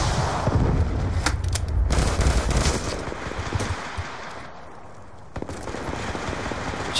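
A rocket grenade launcher fires in Call of Duty Black Ops 2 gameplay, loud booming blasts mixed with rapid gunfire and explosions in a dense, continuous game battle.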